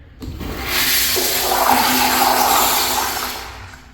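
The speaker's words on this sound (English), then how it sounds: "one of the main comparisons to the Kohler high crest I like to make is the loud flushing sound" A Sloan ST-2459 toilet flushes loudly and alone, a sharp onset swelling into a sustained rushing roar with squeaky tonal whines, then tapering off near the end.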